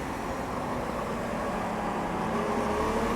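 Race car engine in the Automobilista 2 sim, droning loud and steady throughout with a shifting harmonic pitch, as if downshifting to second gear under heavy braking and then pulling back on throttle.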